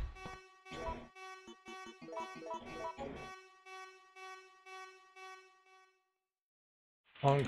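A car horn honks in Resident Evil 3, several short sharp blasts in an irregular series over the first few seconds, then a steady sustained horn tone before a brief gap and a final loud burst.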